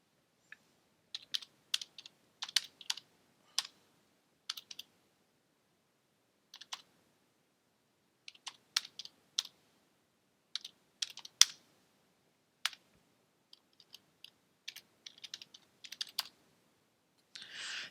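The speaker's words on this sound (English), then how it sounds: "Type the administrator password and username." A username and password are typed on a computer keyboard, producing scattered, sharp, close key clicks in short irregular bursts with quiet gaps between, against an otherwise silent room.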